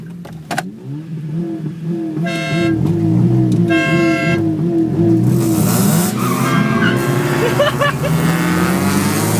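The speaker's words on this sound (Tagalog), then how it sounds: "Busina, 3 busina!" Three bursts of a car horn honk in quick succession over a steady engine roar, loud and close, followed by continuous vehicle noise.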